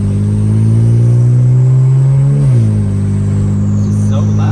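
A BMW 335i with the N54 engine and upgraded 19T turbos, around 550 wheel horsepower, drones loudly from inside the cabin, its pitch rising then dropping sharply in a quick rev blip on a downshift.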